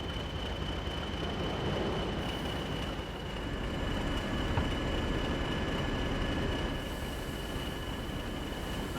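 Locomotive 4172 hauling mail cars in Train Sim World 2 on the West Cornwall Line rumbles steadily along with a constant mechanical roar, a thin high whine and faint wheel noise, and no talking.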